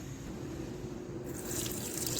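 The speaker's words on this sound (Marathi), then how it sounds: "डाळ अशी मऊ शिजल्यानंतर त्याच्यावरचं जे पाणी आहे ज्याला आपण कट म्हणतो ते एका भांड्यात काढून घ्यायचं" Cooked dal water, the thin liquid skimmed off softly cooked dal, is poured into a vessel with a steady, close watery splash and trickle that swells slightly toward the end; no one speaks.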